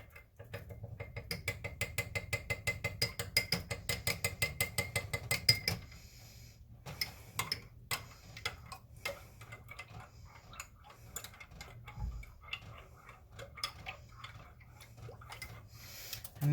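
A spoon stirs caramel into milk in a cup, giving a fast, rhythmic run of light metallic clinks that then slows into scattered, irregular taps and scrapes, quiet and close with no talk.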